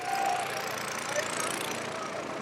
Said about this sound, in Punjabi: ਮਨਕੀਰਤ ਔਲਖ ਜਿਹੜੇ ਖੁਦ ਟਰੈਕਟਰ ਚਲਾ ਰਹੇ ਨੇ